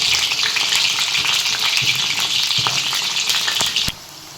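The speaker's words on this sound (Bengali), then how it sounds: "এবার ভেন্ডিগুলোকে ভেজে নেব।" Okra frying in hot oil in a wok gives a loud, dense, close sizzle with occasional stirring clicks, then drops off abruptly near the end, with no one speaking.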